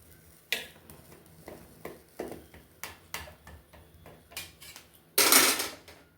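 A knife slicing through freshly baked, hot, juicy bread stuffed with green chillies, giving a series of small crisp ticks and taps against the crust, with a louder scraping crunch near the end.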